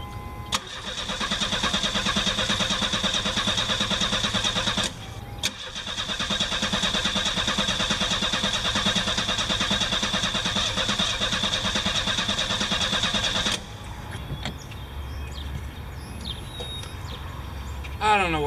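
A car engine running on brake cleaner cranks and catches, stalls abruptly around five seconds, then restarts and runs steadily and loudly before cutting out, leaving quieter background sounds at the end.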